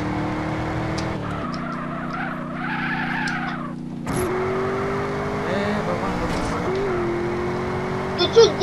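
A car engine hums steadily while driving on a Russian drift server in GTA San Andreas, with shifting pitch, brief tire noise and a voice talking over it.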